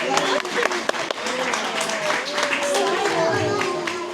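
Audience at a zoo animal show claps in a round of applause, a dense patter of many hands close by, mixed with talking voices throughout.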